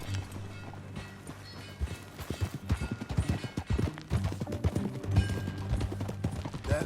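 Rhythmic hoofbeats of a galloping horse in Red Dead Redemption 2, quick repeated thuds over a low steady music bed.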